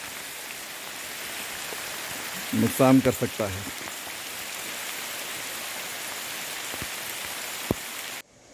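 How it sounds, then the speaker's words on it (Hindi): Heavy rain falls in a Himalayan forest in Uttarakhand, giving a steady, dense hiss throughout, while a voice speaks briefly over it partway through. "ये हमें इस समय महसूस हुआ जब बरनाला में भयानक बारिश हुई।"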